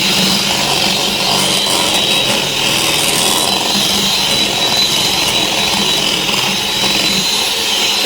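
An electric mixer whirring at its top turbo speed through Victoria sponge batter, a loud, steady, dense grinding drone that runs without a break, close by and with no talk over it.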